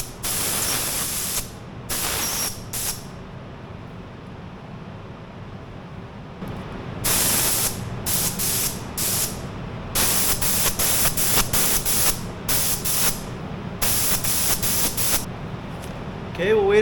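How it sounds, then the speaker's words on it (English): Spray gun laying down a coat of APO1 paint on chrome for a 24K gold look, heard as repeated bursts of loud hissing spray separated by short pauses over a steady background hum. "now I'll spray another coat"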